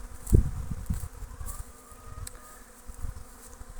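Honeybees buzz steadily around an apiary, a dense hum of many insects close by, with a few soft thumps and bumps near the start.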